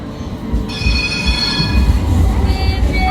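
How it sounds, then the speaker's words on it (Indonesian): An Istanbul tram rolls past close by, its wheels setting up a loud rumble and a sustained high metallic squeal on the rails that holds steady throughout. "Nah, ini kereta tram Istanbul."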